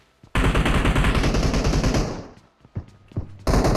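Rapid bursts of automatic gunfire from PUBG Mobile, loud and close, a long sustained volley followed by a few scattered shots and another burst at the end.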